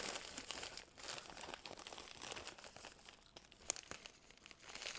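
Tape being peeled off a bubble mailer, a continuous close crinkling and rustling of plastic with small crackles and one sharp snap near the end, quiet and without speech.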